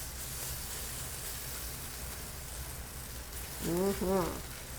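Potato cakes (latkes, Kartoffelpuffer) frying in a pan, giving a steady, soft sizzle throughout, with a brief voice-like burst near the end.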